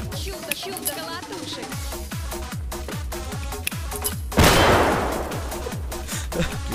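A grenade explodes in a video game with a sudden loud, broad blast that slowly fades, following a run of rapid, steady thumping gunfire.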